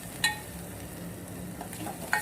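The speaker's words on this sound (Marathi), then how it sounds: "आता मी टाकणार कांदा आणि त्यासोबतच खोबऱ्याचं सर्वाचं काढून घेतलेलं याला पूर्ण परतून घ्यायचं आहे" Chopped onion and grated coconut sauté in a pan, with a soft steady sizzle broken by a few brief scraping stirs of a spoon, close and moderately quiet.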